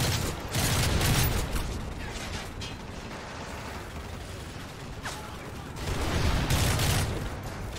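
Modern Warfare game gunfire, bursts of sharp shots and rattling fire in two louder clusters with quieter crackle between, mid-distance and unbroken by talk.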